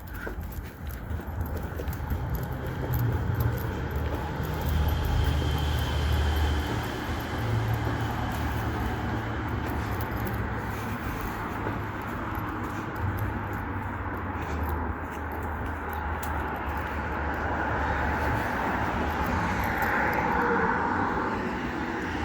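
A train passes near a road underpass on a Melbourne suburban line, a steady low rumble and rolling drone that holds fairly loud and close for over twenty seconds with no talk over it.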